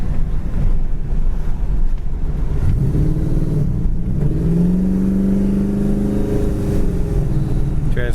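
A 1971 Dodge Charger engine with a 4-barrel carburetor pulls steadily while driving, a loud continuous low rumble rising in pitch as it accelerates, with wind and road noise throughout.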